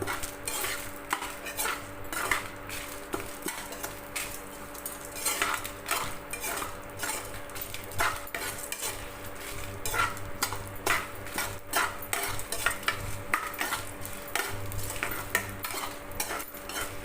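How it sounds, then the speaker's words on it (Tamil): Spices roast in a small amount of oil in a pan for South Indian cabbage chutney, with a soft continuous sizzle under frequent close scraping and clinking of a metal spoon as they are stirred, and no talking. "லைட்டாக மட்டும் எண்ணெய் ஊற்றிக்கங்க அதிகமாக வேண்டாம் இதை வறுத்து எடுத்துக்கலாம்"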